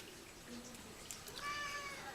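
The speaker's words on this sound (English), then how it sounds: "my cat is being a nuisance" A house cat meows in a brief, rising cry that stands out over a faint background hiss, with no one talking.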